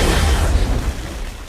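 A heavy, rumbling blast-like kill-announcement effect from a flame M416 weapon skin in a video game, loud and dense, fading slightly toward the end with no talking over it.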